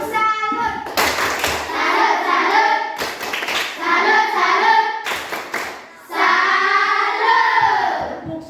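Classroom of children chants and claps a rhythmic 'tepuk salut' for a classmate named Arin, with sharp clap bursts alternating with loud sung voices in repeated phrases.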